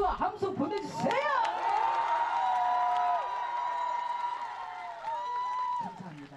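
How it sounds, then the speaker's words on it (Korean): Crowd cheering and applause at a festival concert in Busan's Gijang market, whoops and shouts rising over clapping; a voice carries on loudly through the middle and end of the sound. "여러분 박수와 함성 보내주세요!"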